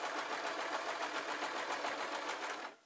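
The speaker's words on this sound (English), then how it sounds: "machine doesn't seem to mind fake fur at all." Close, steady whir of a sewing machine sewing a plain running-stitch seam through fake lamb's fur for a cushion, with a fast even pulse throughout before it stops at the end.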